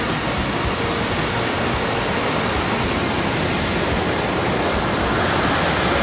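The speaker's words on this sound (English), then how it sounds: "I love the roar of the waterfall" A Georgia waterfall roars steadily and loudly, a dense broadband rush of falling water that never lets up, with no voices over it.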